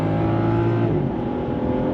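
A BMW 740Li inline-six engine roars steadily and loud while accelerating from a standstill, a thick, constant mechanical drone with no voices over it.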